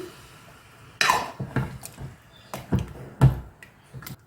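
A utensil scrapes and knocks against a pot while chicken gravy is stirred, giving a few separate clinks and scrapes over about four seconds, close and moderately loud with quiet gaps between them.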